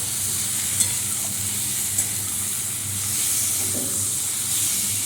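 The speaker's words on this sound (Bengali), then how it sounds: "মাংস রান্না করছি বন্ধুরা" Meat fries in a pan with browned fried onions, giving a steady, close sizzling hiss that runs unbroken throughout, with a couple of faint clicks and no voices.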